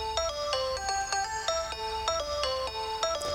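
Bright synth arpeggio from a Logic Pro X track, plucky repeating notes stepping rapidly up and down in a steady pattern, clear and alone with no voices.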